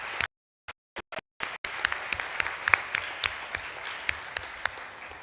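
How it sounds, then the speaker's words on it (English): A few scattered claps at first, then an audience breaks into steady, moderately loud applause that continues evenly to the end. "I'm going to pause here for a round of applause."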